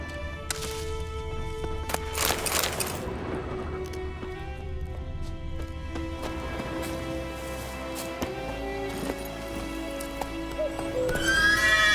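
Roach the horse in The Witcher 3 gives a loud whinny and then trots with steady clip-clop hooves, with rain pattering and game music behind.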